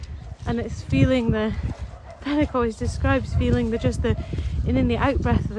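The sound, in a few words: sheepdogs barking on a farm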